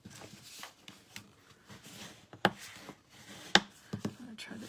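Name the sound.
folding paper card stock for a Stampin' Up card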